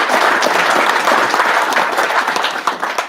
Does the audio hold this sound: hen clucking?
no